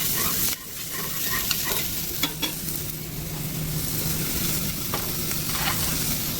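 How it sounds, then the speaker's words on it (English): Chorizo sautéing in a pan, a bright continuous sizzle with a few spatula scrapes and taps against the pan, heard up close with no one talking. "so we're sauteing that"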